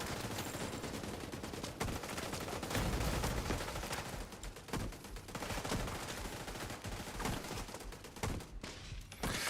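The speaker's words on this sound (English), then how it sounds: "Oh, there's firing." Rapid bursts of automatic gunfire and turret fire in a looting-and-shooting video game, dense and loud throughout with continuous overlapping shots and no talk.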